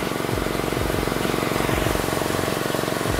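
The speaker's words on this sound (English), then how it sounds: "Now the exhaust leak I'm talking about is right there." A Mazda Miata's engine idles with a steady rumble, a rhythmic low chugging and a faint puffing pulse from an exhaust leak, continuous and fairly close.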